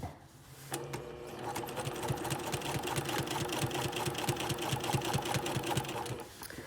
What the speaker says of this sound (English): So I'm going to start right at the beginning of the seam, aligning the side of the presser foot with my princess seam stitch line.